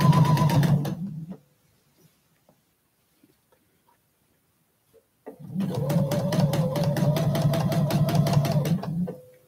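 Sewing machine stitching down quilt binding in two bursts of fast, even rhythmic clatter separated by a few seconds of near silence.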